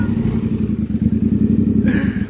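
Motorcycle engine running close by with a steady throbbing idle and mechanical clatter, loud and continuous with no talk over it.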